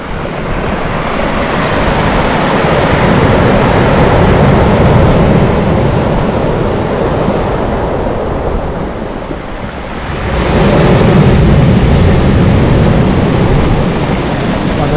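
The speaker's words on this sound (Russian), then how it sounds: "На горизонте приближается еще парочка волн." Stormy Black Sea surf at a shore, waves crashing in a steady roar with wind buffeting the microphone, easing slightly before a fresh, heavier surge of breaking water swells back up near the end.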